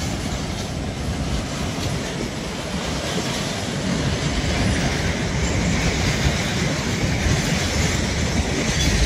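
A long oil freight train rolls past close by, a loud continuous rumble of railcars with wheel clatter and some metallic squeal, sustained without pause from start to finish.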